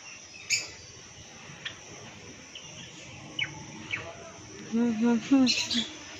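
Scattered bird chirps and tweets, mostly faint, with a louder burst of chirping near the end over quiet room noise.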